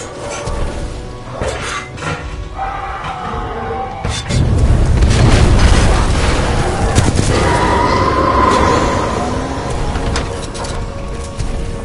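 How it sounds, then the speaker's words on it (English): A series of explosions scuttles an entire complex in Titanfall 2, a loud sustained roar of booms and rumbling blasts that swells midway through and continues with crackling debris. "a series of explosions just weakened the manipulator arm"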